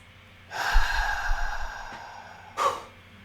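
A single deep breath, a long loud inhale followed by a short exhale, close to the mic with no talking.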